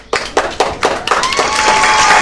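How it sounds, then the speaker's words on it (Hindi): A crowd at a street food kheer eating challenge claps for a finisher, starting with a few sharp separate claps and quickly building into continuous loud applause. "ताली बजा दीजिए।"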